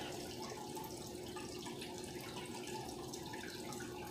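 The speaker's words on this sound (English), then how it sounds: "here I have some lemon that I'm squeezing in a pot" Fresh lemon juice trickles and drips into a pot as a lemon is squeezed, a continuous soft, close liquid patter heard alone without speech.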